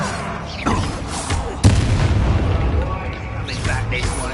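A Bombarda spell explosion in the Hogwarts Legacy video game goes off as one sharp, loud boom midway. A rumbling, crackling burst leads into it, and battle noise and a voice continue underneath.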